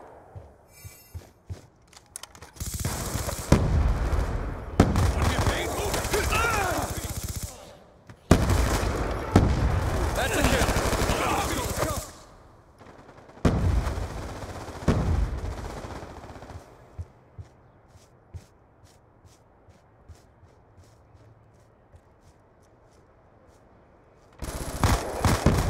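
Heavy automatic gunfire and bursts from the Call of Duty Black Ops II Hollywood USA map, loud and dense in several long volleys separated by brief pauses, with a quieter stretch before the shooting resumes at the end.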